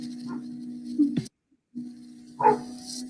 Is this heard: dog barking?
yes